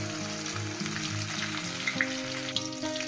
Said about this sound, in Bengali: এই মাছটাও ভাজা হয়ে গেছে